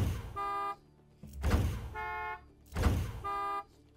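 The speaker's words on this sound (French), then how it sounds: "on a débloqué un nouveau klaxon" A vehicle horn in the video game Far Cry 6 sounds three times, each a short, steady, buzzy honk about half a second long. Between the honks come louder bursts of engine or vehicle noise.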